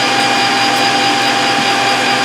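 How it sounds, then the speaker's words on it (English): A 3/4 drill bores holes for a lathe deburring-tool mount, giving a loud, steady whirring drone that holds unchanged for the whole stretch without any speech. "I'm just going to use a 3/4 drill"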